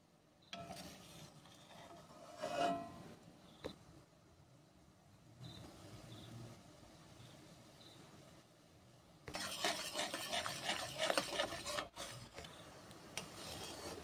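Pumpkin jaggery, made with lime, being stirred in a pan: intermittent scraping and rasping strokes, quiet at first, then a denser, louder run of stirring near the end.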